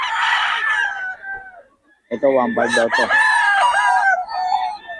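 A rooster crows loudly and close, with chickens clucking around it at a poultry market in Bocaue, and someone talking briefly beforehand.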